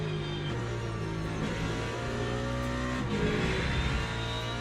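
Porsche and LMP2 endurance race cars battling on track, engines droning and revving steadily throughout with a shift in pitch near the middle, loud and continuous with no talk.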